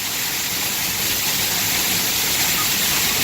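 A waterfall heard from close by, a steady, loud, hissing roar of rushing water that stays constant throughout without breaks.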